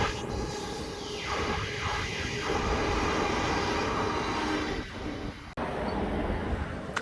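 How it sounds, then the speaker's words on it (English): A Queensland Rail IMU 100 series electric train passes near a bridge by Nundah station, a steady rumbling roar of moderate loudness with a brief dip late on. "You'll also see this IMU 100 series train going past as we cross the bridge."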